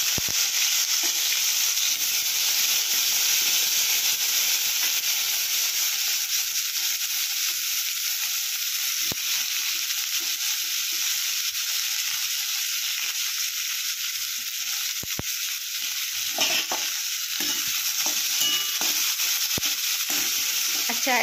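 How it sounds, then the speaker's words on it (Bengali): Chopped onion and tomato fry in a little oil in a pan, giving a steady, close sizzle that runs unbroken throughout, with occasional soft stirring scrapes and no talking. "অল্প একটু তেলে আমি পেঁয়াজটা এই যে পেঁয়াজ আর টমেটো কুচিটা একটু ভেজে নেব।"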